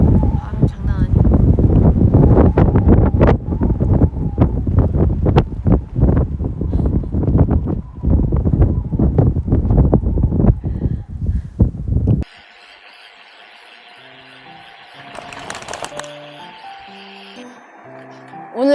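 Strong wind blasts a microphone while cycling on a road ride, a loud, constant roaring buffet for most of the time before dropping away to a quieter, steadier background.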